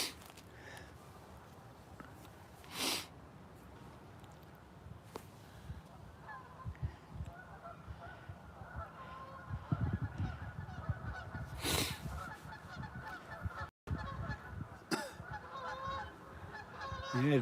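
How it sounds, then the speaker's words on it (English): Flocks of geese honking outdoors, scattered calls near and far over quiet ambient noise, with faint footsteps. "geese all over the place now. They're coming in pairs or in groups, in flocks"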